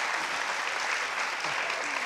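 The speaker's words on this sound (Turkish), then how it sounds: "Aysel'i alkışlıyoruz efendim." An audience applauds in a Turkish television studio, a dense, steady wash of clapping that holds at an even level throughout.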